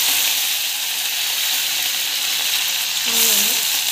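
Mustard seeds, ginger, green chili and onion sauté in hot oil with a dense, steady hiss close up. A short tonal whine breaks in near the end, and no one speaks over it.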